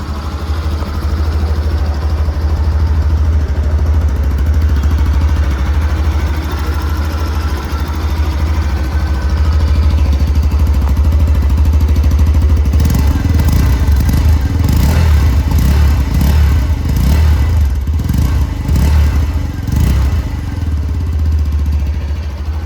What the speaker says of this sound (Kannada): ಈ ಒಂದು ಬೈಕ್ ನ ಎಕ್ಸಾಸ್ಟ್ ನೋಟ್ ನ ನೋಡ್ಕೊಂಡು ಬರೋಣ ಬನ್ನಿ